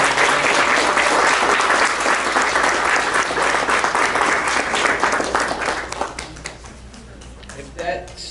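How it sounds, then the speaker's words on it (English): Loud, sustained audience applause at an ataxia awareness fundraising event, a dense wash of clapping that holds for several seconds before thinning out, with voices and cheers mixed in near the end. "let's give it another round of applause"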